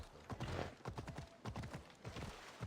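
Hooves pound in a fast, rolling clip-clop rhythm, fairly quiet and continuous, like a horse galloping, in the video game Assassin's Creed Odyssey.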